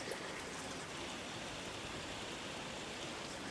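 Rainwater overflowing from one full barrel into a second barrel in a DIY rainwater collection system during heavy rain, a steady close rushing splash of pouring water with no pauses and no voices.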